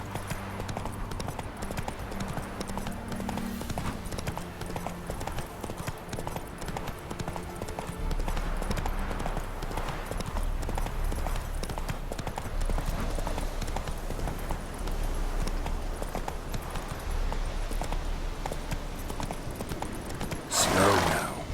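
Hooves of Roach the horse in The Witcher 3 pounding in a continuous galloping rhythm, close and prominent, with game ambience underneath, some talking and a brief sharp sound at the very end.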